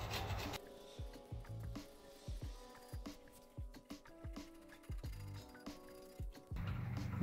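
Rust and buildup being scraped off a Subaru Crosstrek brake bracket, a quiet run of short, irregular metallic scrapes and clinks against a faint background, without any talking.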